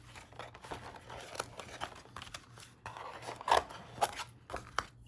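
Scissors snipping through craft material for a sea turtle project, a close series of irregular crisp cuts with light rustling of the material between them, no talk.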